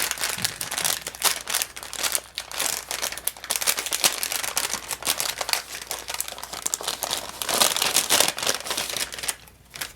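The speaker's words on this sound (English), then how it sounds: "I'm ready to rip it open" Paper crinkling and tearing as a paper advent calendar door is ripped open, a close, continuous rustle of crumpling paper with bursts of louder tearing, no talk.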